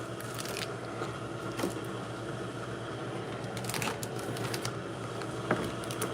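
Crab shell crunches and crackles as the body meat is shelled by hand, giving a close series of sharp, brittle snaps and cracks with no one talking.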